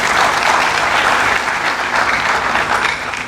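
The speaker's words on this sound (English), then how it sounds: "a round of applause for him" Sustained loud applause from a lecture audience at an inaugural university lecture, a dense wash of many hands clapping steadily throughout with no voices over it.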